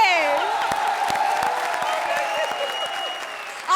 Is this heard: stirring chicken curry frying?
no